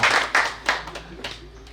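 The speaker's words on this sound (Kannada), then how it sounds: "ಎಲ್ಲರಿಗೂ ಒಂದು ದೊಡ್ಡ ಚಪ್ಪಾಳೆ ಕೊಟ್ಟು ವ್ಯಾಲಿಡಿಟಿ ಕಾರ್ಯಕ್ರಮವನ್ನು ಶುರು ಮಾಡೋಣ." An audience at a Rotary Yuva treasure hunt event gives a short round of applause, a few loud claps up front that quickly thin out and fade within two seconds.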